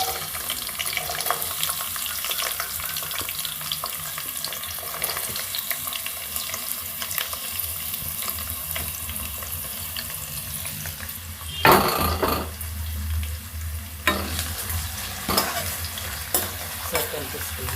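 Onions frying in hot oil with spices in a pan for vegetable pulao give a steady close sizzle, with a spoon stirring and scraping partway through.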